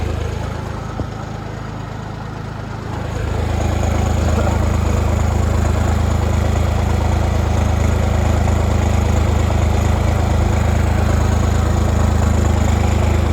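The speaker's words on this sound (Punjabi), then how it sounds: "ਟਰੈਕਟਰ ਵਧੀਆ ਤੁਰਿਆ ਜਾਂਦਾ" A tractor engine runs steadily in a potato field in Punjab. It holds a loud, close, constant low rumble that swells slightly after the first few seconds, then stays even. Nobody speaks.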